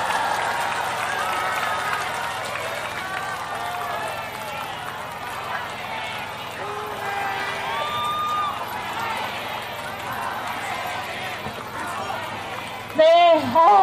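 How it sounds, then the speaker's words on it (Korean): Dense crowd applause and cheering at an outdoor Korean election campaign rally, sustained for several seconds with scattered voices mixed in, ending as a loud amplified voice begins over it. "큰 박수로 한번 주시기 바랍니다"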